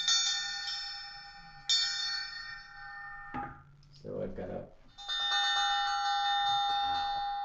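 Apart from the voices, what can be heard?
synthesizer elephant bell sound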